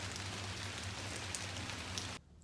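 Steady rain pattering on a surface at night in a parking lot, a dense even hiss with faint low hum underneath, cutting off abruptly near the end.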